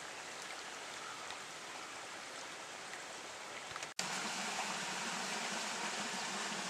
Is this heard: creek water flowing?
yes